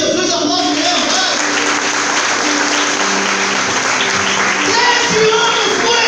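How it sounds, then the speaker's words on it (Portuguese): A church congregation applauds during a sermon, with loud, dense, continuous clapping filling the whole stretch, steady from start to end, and sustained tones beneath. "Pode aplaudir Jesus, aplaude mesmo"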